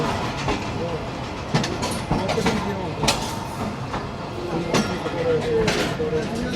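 A Rehman Baba Express passenger train rolls along in Pakistan, its carriage rumbling steadily with rhythmic clickety-clack of wheels and occasional metallic squeaks, heard from inside amid faint background voices.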